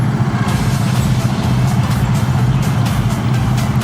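Dense, congested traffic on EDSA: a steady low rumble of cars and trucks idling and crawling close by, continuous throughout with no clear talk over it.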